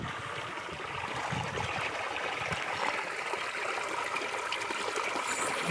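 Water runs steadily through a small irrigation channel in a sugarcane field, a continuous close rushing and gurgling flow at even loudness with no voices.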